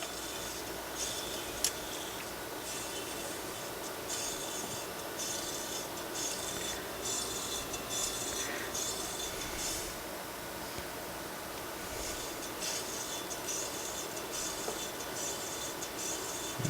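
A Midwest Radio Symphony Grand turntable mechanism, its idler rubber cracked and hardened, runs with a steady, quiet rasping and rubbing noise that continues without a break and with no talk.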